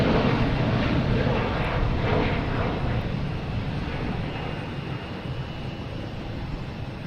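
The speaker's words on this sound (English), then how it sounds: "This is American landing in 2 seconds." An American Airlines jet landing at Boston Logan Airport on a late afternoon, a loud, steady broadband engine roar that eases slightly toward the end, with no talking.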